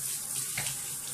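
Hot water runs steadily from a tap into a sink while hair is washed, a continuous close rushing hiss with no pauses.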